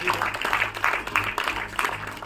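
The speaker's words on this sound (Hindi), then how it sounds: "एक बार जोरदार तालियां हो जाएं, all eyes on the big screen." Audience at an Indian film trailer launch event breaks into loud, rippling applause, dense clapping in waves over a brief stretch.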